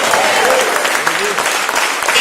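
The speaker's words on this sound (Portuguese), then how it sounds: "Dá um aplauso ao Senhor" A church congregation at a Sunday service breaks into loud, sustained applause, dense clapping filling the room with a preacher's voice mixed in.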